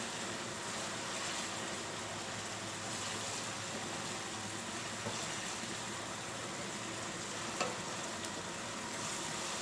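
Onion, garlic and ginger sizzling as they brown in oil for dhaba-style daal mash, a continuous even frying hiss with a light tap near the end, no voices.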